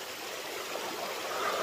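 Water pours steadily down a waterfall in Thailand, a constant broadband rushing wash, close and moderately loud, with no talk.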